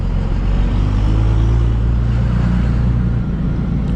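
A 2001 Dodge Ram 2500 Cummins diesel with a six-speed manual drives along, its low engine drone steady and loud throughout with constant road rumble, no talking.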